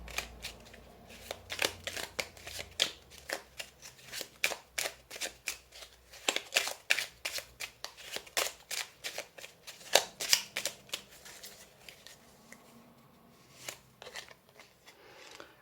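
Oracle cards shuffled by hand for a tarot reading, a close series of quick papery riffles and soft slaps in uneven bursts, fairly quiet, with no talking over them.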